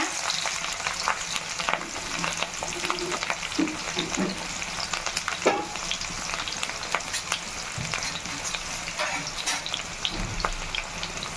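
Green chilies and onion fry in hot oil at the start of a goat tripe curry, a steady, close crackling sizzle with stirring scrapes layered through it and no talking.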